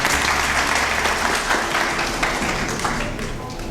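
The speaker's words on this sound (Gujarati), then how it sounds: "જે લોકો નીચે બેઠા છે એમના માટે આપણે એક જોરદાર તાળી પાડી દઈએ" An indoor audience at a talk gives a loud, dense round of clapping that continues steadily and fades slightly toward the end.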